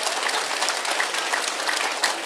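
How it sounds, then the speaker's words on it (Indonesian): Audience applause at a Monday afternoon Islamic sermon gathering, a steady wash of many hands clapping together for about two seconds at moderate loudness, with no voices over it. "Tepuk tangan dulu dong."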